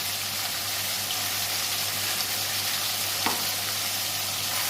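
Tomato and mustard paste with green chilli sautéing in a pan for a fish curry, a continuous even sizzle with a faint low hum beneath and one brief utensil scrape, close, with no voice.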